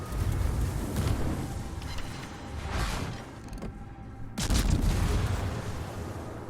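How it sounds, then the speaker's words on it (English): Tank cannon fire and battle rumble in a World of Tanks–style armored combat game, a few broad booming blasts over a continuous low engine and battlefield drone, loud and close with no talk. "He returns fire."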